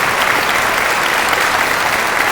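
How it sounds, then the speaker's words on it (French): An audience claps loudly and steadily throughout a live comedy show, a dense, continuous wash of applause with no pauses. "Donc vous pouvez vous applaudir très fort"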